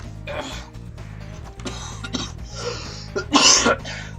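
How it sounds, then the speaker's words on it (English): Several rough coughs in a row, with a louder, harsher burst near the end, over a steady low hum. "Cough sounds absolutely atrocious."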